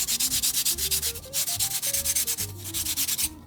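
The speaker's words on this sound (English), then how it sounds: "I've been using 60 grit to really remove a lot of material, then I'll work up to 100 and then 200 to smooth it down even further." Rapid rhythmic back-and-forth scrubbing of 60 grit sandpaper on a homemade Fortnite tactical SMG prop built from cheap materials, close and steady with no talking.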